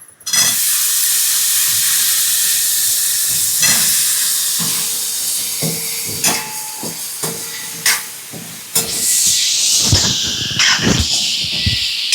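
Washed kantola (spiny gourd) drops into a hot oiled pan and sets off a loud, steady sizzle, with clatters and scrapes of stirring and a fresh burst of hiss near the end.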